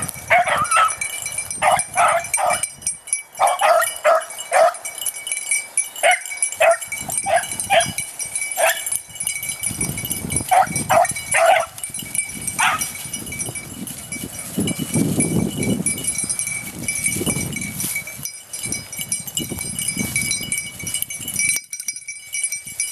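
Beagle hounds bay and yip while running rabbit scent outdoors, bursts of sharp repeated barks from several dogs, some near and some farther off, broken by quieter gaps and rustling movement.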